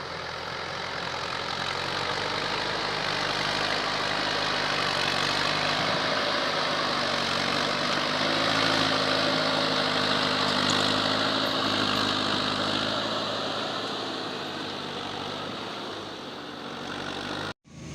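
A logging machine rolls across the forest floor with its engine running, a loud, steady drone that swells slightly at the midpoint and cuts off abruptly at the end.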